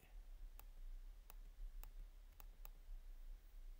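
A computer mouse clicks five times at close range, sharp isolated ticks spaced unevenly over a few seconds against a faint steady hum, with no talking.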